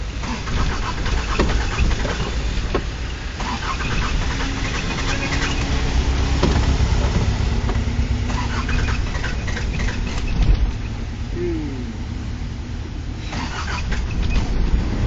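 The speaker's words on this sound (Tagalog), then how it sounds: "Kung kailan malapit na tayo, tumirik pa." A stalled car engine in floodwater, with the motor running and revving under steady rain or water noise, a short starter-like rise near the end, and faint birds behind.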